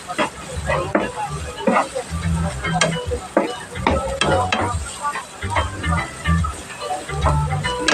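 Garlic and then onion sautéing in oil, a bright crackling sizzle punctuated by sharp spatters and stirring knocks, close by, with a voice talking over parts of it.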